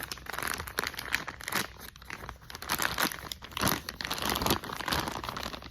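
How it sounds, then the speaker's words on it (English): A plastic bag from a catheter insertion kit crinkles and crackles as it is rolled down, close and fairly loud, in bursts of handling noise. "I take this bag and I just roll it down"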